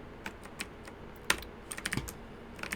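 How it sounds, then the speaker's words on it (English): Computer keyboard typing with a few sharp mouse clicks, close and fairly quiet, in irregular bursts with brief pauses, recorded near a microphone fitted with a downward-facing pop filter. "Hopefully these keyboard and mouse sounds are slightly more muffled with this pop filter facing downwards towards them."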